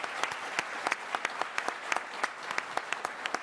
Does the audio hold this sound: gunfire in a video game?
no